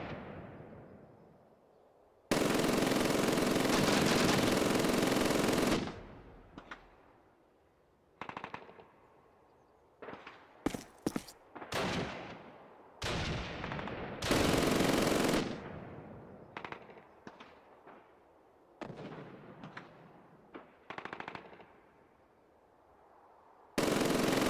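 Loud bursts of rapid automatic gunfire in Call of Duty: United Offensive multiplayer, alternating with single sharp shots and pauses, dense and close, with no talking.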